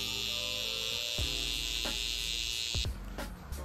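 Electric hair clippers buzz steadily while cutting hair on the neck during a burst high-taper haircut, a close, loud, continuous hum with brief dips as the blade moves across the skin.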